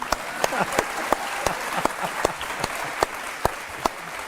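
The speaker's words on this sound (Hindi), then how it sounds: "ताली बजाइए भाई" A talk show studio audience claps in loud, sharp bursts with distinct individual claps standing out, and faint voices murmur underneath.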